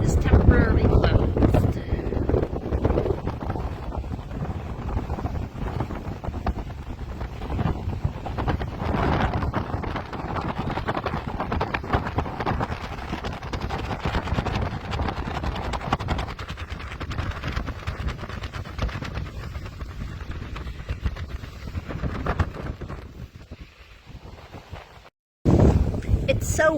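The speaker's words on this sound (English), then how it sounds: "It's so windy I can feel the pier moving." Strong wind gusting at Cocoa Beach pier buffets the microphone in continuous rough rumbles and roars, with a brief cut near the end before the blustering returns.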